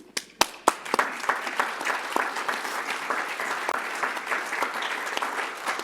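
An audience applauds steadily, with a few sharp, close claps at the start and then a dense, sustained wash of clapping.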